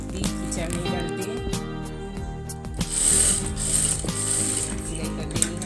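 A sewing machine runs a neckline strip on a baby frock, its ratcheting mechanical whir running steadily at close range with short bursts and brief pauses, while faint voice-like sounds drift underneath.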